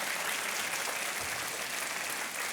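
Studio audience on the game show Kaun Banega Crorepati clapping steadily, a dense, even wash of applause from many hands that holds without break.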